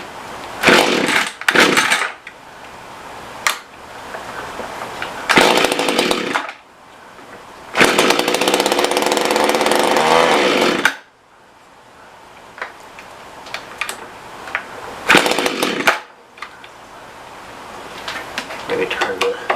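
A Mantis rototiller's small two-stroke engine with a poorly running carburetor revs loudly in repeated bursts, surging and dropping away between them, with clicks and tapping in the quieter stretches.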